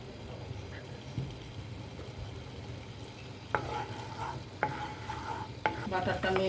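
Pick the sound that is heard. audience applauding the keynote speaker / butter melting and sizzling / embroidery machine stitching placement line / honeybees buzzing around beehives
butter melting and sizzling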